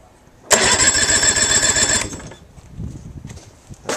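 A Johnson 48 outboard engine cranks over during a compression check on its lower, number two cylinder: a loud, fast, rhythmic churning that runs for about a second and a half, then drops away to quieter clatter.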